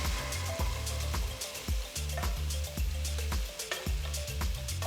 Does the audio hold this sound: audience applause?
no